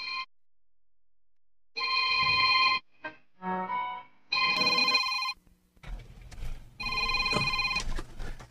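A telephone rings in repeated bursts, a bright electronic trill starting and stopping several times with short gaps, loud and close in an indoor scene, with low background rumble toward the end.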